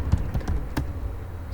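Keys clatter on a computer keyboard in a few quick, light taps, close and fairly soft, followed by quieter background.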